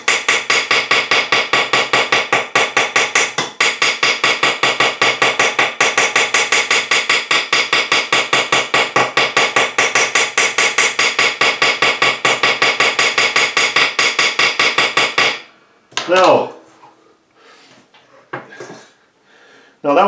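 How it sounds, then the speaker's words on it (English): A hammer taps rapidly and steadily on a model car axle shaft while making Dinky and Corgi axles, a dense metallic rhythm running for about fifteen seconds before stopping, followed by a few quieter scattered knocks. "Now that was only a little bit of tapping."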